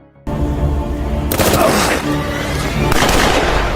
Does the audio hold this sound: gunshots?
yes